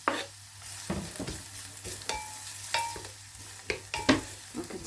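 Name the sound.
onions and garlic sizzling in hot oil in a saucepan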